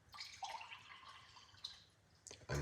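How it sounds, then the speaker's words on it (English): Water pours into a cup as a quiet, close trickle that splashes gently and shifts in pitch while the cup fills. A soft clunk comes at the end. "And then we're going to pour some water"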